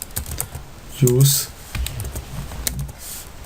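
Computer keyboard typing while writing PHP code for the Yii2 framework, a short run of quick, close key taps with one heavier cluster, under a voice speaking briefly.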